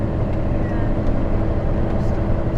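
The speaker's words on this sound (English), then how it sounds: "See, all the trucks all come through here." City traffic with trucks passing on a route into Warsaw, a loud, steady low engine rumble and road drone heard close from inside a heavy goods vehicle cab, with voices over it.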